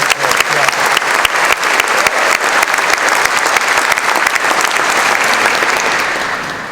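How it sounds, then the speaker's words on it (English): A conference audience in Brisbane Town Hall applauds at a Rotary District 9620 centenary event, a loud, dense round of clapping from many hands that holds steady for several seconds and then begins to taper. "Just give us a round of applause"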